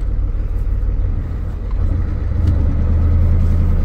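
A Ford F250 diesel truck engine rumbles low and steady as the truck pulls away, the drone swelling slightly louder toward the end, with no talking over it.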